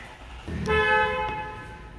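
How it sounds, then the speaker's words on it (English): A car horn honks in a sustained blare lasting about a second, with traffic noise underneath. "People honking"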